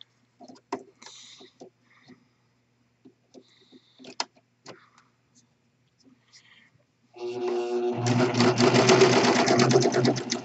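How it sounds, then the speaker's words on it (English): A serger sewing machine stitching and trimming a fabric corner: a few quiet clicks and handling sounds, then a steady, fast mechanical whirring run of stitching near the end, close and loud. "And you turn the corner while trimming off about a quarter of an inch of the fabric."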